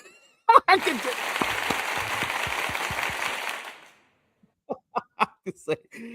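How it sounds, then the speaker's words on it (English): A canned applause effect triggered from a button: a few seconds of dense crowd clapping that swells and fades out, followed by silence and then someone talking. "Where's the applause button?"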